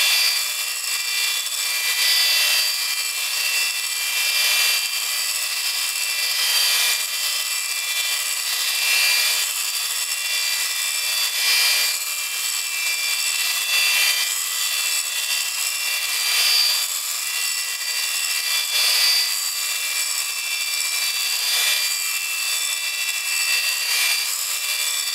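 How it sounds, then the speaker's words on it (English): Valve refacing machine grinding the intake valves of a 1962 Ford Fairlane, a steady high-pitched abrasive whine with gentle rhythmic pulsing, heard alone and close. "You can watch as it's machining, the shiny new metal surface will appear."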